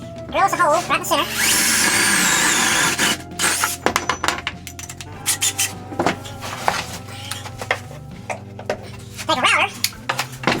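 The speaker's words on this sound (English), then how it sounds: "Drill us a hole right in the center." Power drill boring a hole in the center of a box opening inside a homemade RV bedroom built on a 1977 Peterbilt 359, a loud whirring burst followed by clattering tools and handling noises, with talk nearby.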